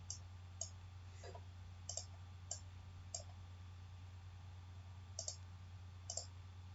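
Sparse, faint computer mouse clicks tick at irregular intervals, some in quick pairs, over a steady low electrical hum while working in Microsoft Word 2021.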